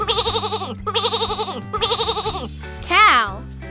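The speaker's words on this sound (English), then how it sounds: "Sheep." A sheep bleats three times in a row, each call a long, wavering, quivering cry at close range, with a brief spoken word following after a short pause.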